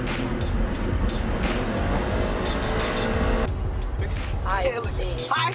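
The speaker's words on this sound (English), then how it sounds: "High-speed car chases." Dense car noise from a high-speed chase on a public road, with engines roaring and tires squealing continuously and close, mixed with talk and background music throughout.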